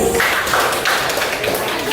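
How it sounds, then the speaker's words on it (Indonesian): Classroom students clapping their hands together, a busy, uneven patter of many claps blending into a continuous burst, fairly loud and close, with faint voices mixed in underneath. "tepuk tangan untuk Raja"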